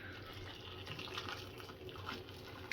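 Hot water from a just-boiled kettle pours into a pan in a home kitchen, a faint, continuous gurgling splash that runs steadily throughout with no speech.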